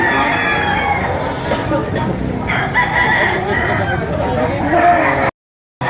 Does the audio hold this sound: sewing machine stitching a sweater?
no